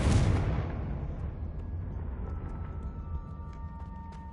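A Confringo fire spell from a Hogwarts video game bursts in a single loud boom at the start, then decays into a long rumbling tail with faint scattered crackles and tones.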